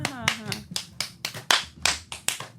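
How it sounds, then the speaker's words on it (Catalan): Hand clapping at a Catalan game show, about ten sharp, evenly spaced claps from a few people, close and crisp, with brief voices at the start. "Ah, ningú m'aplaudeix, no?"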